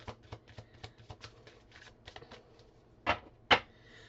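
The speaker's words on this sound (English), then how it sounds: "They want me to get all the cards and lay them out," Tarot cards shuffled and handled in a quiet room, a run of soft riffling flicks followed by two sharper slaps as cards are laid down near the end.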